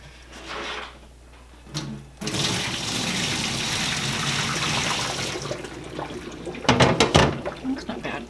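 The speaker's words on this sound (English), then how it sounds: "We'll empty out this water." Water is poured from a cooking pot into a strainer while making pineapple fried rice, a steady rushing splash lasting several seconds, followed by a few clattering knocks.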